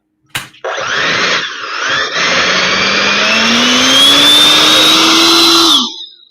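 A Freewing 90mm F-104 RC jet with its electric ducted fan at full throttle spools up sharply into a loud, piercing whine that climbs steadily in pitch for about five seconds, then cuts off abruptly.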